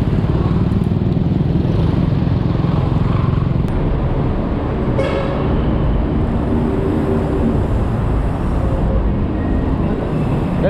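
Heavy road traffic with motorcycles and cars surrounds the listener in a dense, continuous roar, loud and close throughout, with engines passing and no clear voices.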